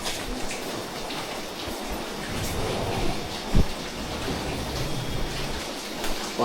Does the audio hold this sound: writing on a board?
no